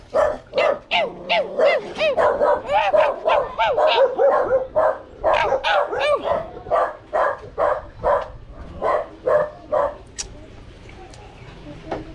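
A dog barks repeatedly in quick bursts, loud and close, with some yelping and whimpering tones and a person speaking near the end.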